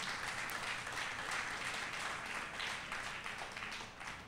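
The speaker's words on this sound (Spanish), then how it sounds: "Dale un aplauso al Señor." A church congregation at a Sunday service applauds in a steady, even wash of clapping that stays soft and distant throughout.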